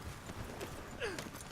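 Horse hooves clip-clopping at an even walk in the video game Red Dead Redemption 2, faint and low in the mix, with a brief voice partway through.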